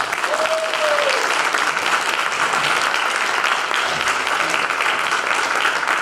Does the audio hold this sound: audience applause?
yes